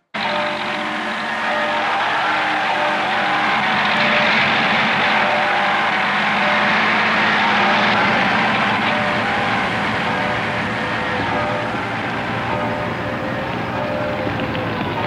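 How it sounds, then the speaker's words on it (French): Tanks, trucks and vehicles of all kinds from the French division parade through Paris at the Liberation, a broad continuous rumble and roar of engines and treads lasting throughout, loud and unbroken, with no speech. "Les chars de la division française, les camions, les véhicules de toutes sortes défilent dans Paris."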